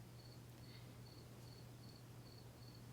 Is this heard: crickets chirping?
yes